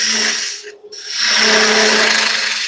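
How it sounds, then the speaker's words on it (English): Spindle gouge cutting a wooden acorn box blank on a lathe, a steady loud rasping scrape with a brief pause near the start before the cut resumes. "Spindle gouge."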